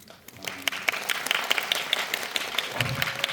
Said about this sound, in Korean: 왜 저한테까지 박수를 이렇게 쳐주시나요?